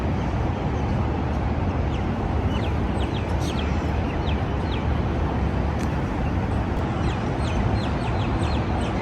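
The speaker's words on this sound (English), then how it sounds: "So you can see the seagull birds are here" Seagulls at a lake call in faint, scattered cries high over a constant loud roar of wind or water noise.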